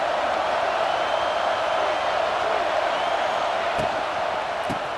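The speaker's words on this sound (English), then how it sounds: "this crowd trying to help keep them there" A stadium crowd in EA Sports College Football 26 roars in a broad, steady wash of cheering through the whole stretch, with a couple of sharp thumps late on.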